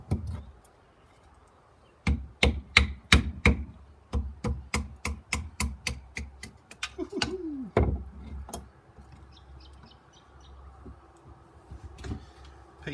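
A small light-duty Boker Magnum pocket knife carving curls of fatwood outdoors, a run of sharp, rapid scraping clicks in quick bursts, then sparser strokes, close and fairly crisp.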